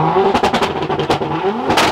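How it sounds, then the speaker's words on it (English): A Nissan GTR engine revs loudly and close by in several sharp, rising bursts, with short pauses between the blips and no talking. "So you push cancel and you rev it"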